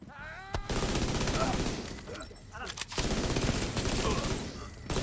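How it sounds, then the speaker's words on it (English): Gunfire crackles in a video game as rapid bursts of automatic shots ring out. Loud volleys come in quick succession, with brief pauses between the bursts. "I heard gunshots. Maybe those punks are armed."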